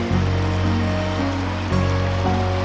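Steady, full rushing of a Geum River tributary flowing below Chilgapsan mountain in Cheongyang, South Chungcheong, heard up close and continuous without talk.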